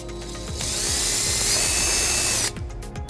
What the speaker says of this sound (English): what we're first gonna do is drill the back hole.